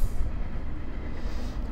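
A train rolls past on railroad tracks just across the street, a loud, steady rumble of rail noise that continues through the whole stretch with no voices.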